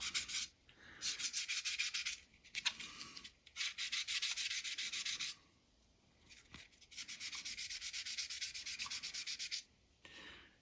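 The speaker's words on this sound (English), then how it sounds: "because I'm using this sanding pad, it'll help me round it out" Repeated rough rubbing strokes of a sanding pad on a model car's painted body, bursts of gritty scraping separated by short pauses, close and fairly loud with no talking.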